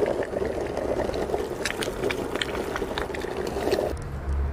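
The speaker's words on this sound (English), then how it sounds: "I guess I was not kidding about boiling eggs." Eggs boiling in a pot of water on an induction stove inside a campervan, a steady close bubbling and rolling simmer with scattered small pops throughout, running alone without talk and thinning out near the end.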